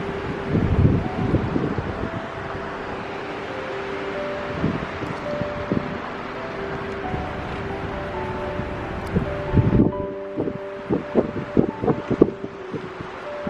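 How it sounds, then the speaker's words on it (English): Strong wind roars steadily across the microphone among tall pine trees beside a tiny church, with gusty buffeting, low rumbling thumps and rustling throughout. "It's a very windy day today."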